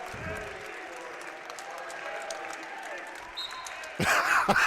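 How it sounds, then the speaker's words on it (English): A basketball crowd at the IUP vs. Shepherd men's game chants MVP from the stands, a far, rumbling mass of voices under a commentator's talk that swells louder in the final second. "They're chanting MVP."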